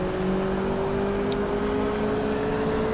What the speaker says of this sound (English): It's a dual overhead cam inline 4 engine